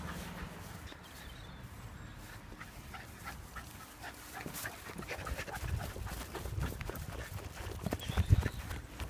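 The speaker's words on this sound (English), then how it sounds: "See, happy dog." A dog pants happily on a walk at Burnham Ramblers, with soft steady breathing, footsteps and light rustling close by, and no talk.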